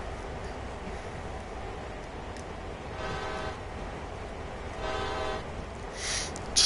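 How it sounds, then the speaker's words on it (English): A locomotive horn in Train Sim World sounds in two separate blasts, each roughly half a second long, over a steady low rumble of the moving freight train. "Just feel like hitting the horn there real fast."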